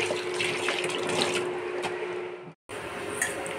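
A fish head is rinsed under a running kitchen tap, making a close, steady rush of water that cuts out for a moment and then resumes.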